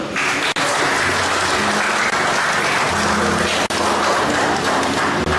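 Sustained applause from a church audience at an inauguration gathering, dense and steady clapping throughout with brief gaps, fairly loud and close.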